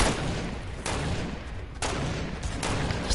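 A pistol fired again and again in Fortnite, around four sharp, loud shots spaced unevenly over a few seconds, with no talk between them.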